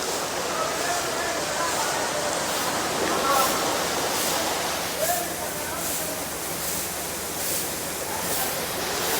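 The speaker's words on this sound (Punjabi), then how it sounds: "ਅੱਜ ਮੀਂਹ ਪੈਣ ਡਿਆ ਜੇ" Steady broadband wash of rain falling, continuous and fairly loud throughout, with faint murmurs of activity in the background.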